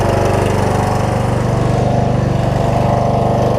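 A Kohler Courage engine on a Husqvarna YTH21K46 riding mower, muffler fitted, runs at a steady idle with a close, even, pulsing drone that holds throughout without speech.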